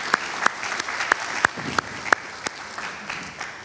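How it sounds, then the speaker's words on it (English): A room of students at a university oath-taking ceremony applauds in a sustained patter, with several sharp, louder individual claps standing out near the front and no talking. "Can we have a clap?"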